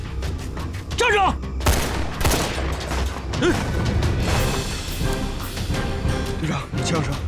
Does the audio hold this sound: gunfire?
yes